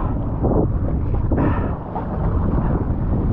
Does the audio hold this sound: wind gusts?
yes